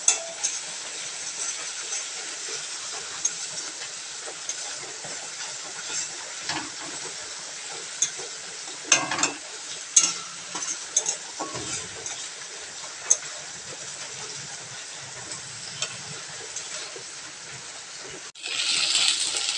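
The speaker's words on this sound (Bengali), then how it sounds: "ভাজা হয়ে গেলে আদা রসুনের গন্ধটা চলে যাবে একটু বেশিক্ষণ ভেজে নিলে গন্ধটা চলে যাবে" Ginger garlic paste sizzles in hot oil with a steady, close hiss, broken by occasional scrapes and taps of stirring, with no talk over it.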